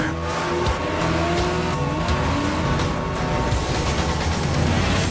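A 2010 Nissan Maxima sports sedan is driven hard, its engine revving loudly while the tires squeal in long sliding whines, close and continuous throughout.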